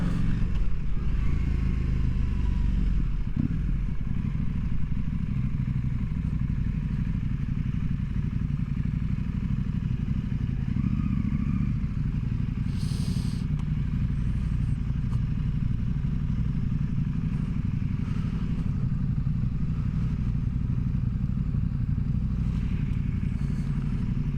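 A Husqvarna motorcycle is ridden at speed, heard from on board as a steady, loud engine drone with wind rush. Occasional clatter and thumps pass over the continuous noise.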